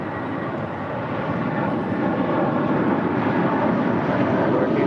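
An airplane takes off from runway 25 right, a steady, loud engine roar that swells slightly as it builds power, heard alone without voices.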